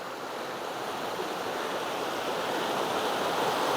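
Drakes Creek rushes steadily where it joins the Lehigh River in the Lehigh Gorge, a broad, close, constant roar of flowing water with no voices.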